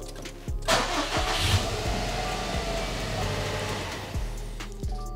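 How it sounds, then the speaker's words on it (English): A car engine cranks and fires up close by, then settles into a steady idle with a low rumble and no voices. "I'm gonna turn on the car right now"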